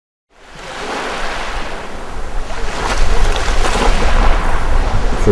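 Ocean surf breaking on a shore: a broad, rushing wash of water that swells in after a moment of silence and grows fuller and louder as the waves roll in.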